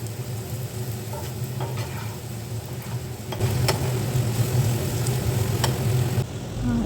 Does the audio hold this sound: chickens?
no